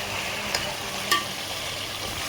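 Chopped green chillies frying for a Peshawari chicken karahi, a steady close sizzle of hot oil with two brief utensil clicks partway through.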